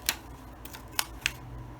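DAISO scissors make a few sharp, crisp snips, about four separate clicks spread over under two seconds, close by against a quiet background.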